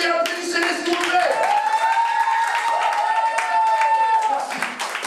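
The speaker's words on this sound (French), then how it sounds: "applaudissez-les s'il vous plaît" Audience applause at a gala evening, steady clapping from a crowd that runs throughout, with a voice and a sustained musical tone sounding over it.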